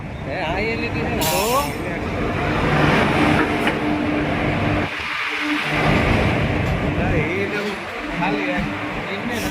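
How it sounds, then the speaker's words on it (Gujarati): An electric passenger train pulls in on the Maliya Hatina to Rajkot route with a loud, continuous rumble and clatter and a brief metallic squeal. Excited voices talk over the noise throughout. "આપણી રેલગાડી આવી ગઈ છે"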